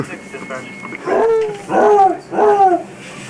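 Dogs brought in at a 1990 Red Flag military exercise give three close, loud, drawn-out yelping whines in quick succession, with faint background noise around them.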